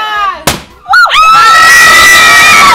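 A gender reveal popper bursts with a sharp bang amid a party, followed immediately by loud, sustained screaming and shrieking from several people close by.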